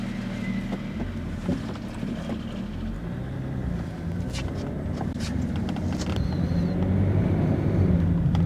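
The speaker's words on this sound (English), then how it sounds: "The sound of the engine." A BMW E38 sedan engine runs steadily with a low, continuous rumble and some wind noise, holding a fairly even level and getting slightly louder toward the end.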